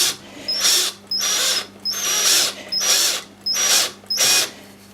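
A power drill drilling into wood whirs in six short bursts with brief pauses between them, close and loud, each burst rising in pitch as it spins up.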